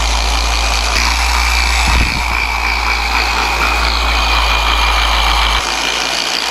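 A polishing machine runs steadily, buffing a flat black carbon fiber bike frame, its continuous motor hum loud and close throughout, with a brief bump of contact noise partway through and no talk.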